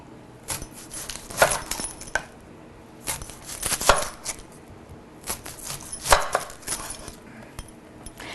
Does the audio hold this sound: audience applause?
no